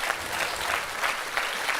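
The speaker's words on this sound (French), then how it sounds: "je ne vous entends pas avec les applaudissements" A television talk show studio audience bursts into brisk, sustained applause, an even wash of many clapping hands close by.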